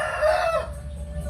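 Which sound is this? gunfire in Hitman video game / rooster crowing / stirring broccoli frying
rooster crowing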